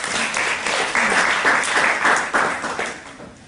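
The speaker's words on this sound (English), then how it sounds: "Round of applause." An audience bursts into applause, a dense crowd of clapping hands sustained for a few seconds before tapering off.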